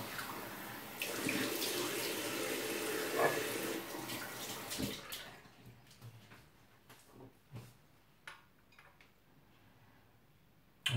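Water runs from a tap as a face is soaked, a soft steady gush for about five seconds, then it stops, leaving quieter splashes, drips and handling sounds with no talking.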